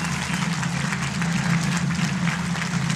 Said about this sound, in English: I want y'all to put your hands together. Let's start clapping it up.